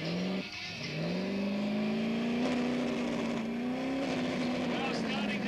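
Holden car engine revving hard at a club burnout event, a loud sustained high-revving drone with rising and falling pitch, heard from on board amid continuous event noise.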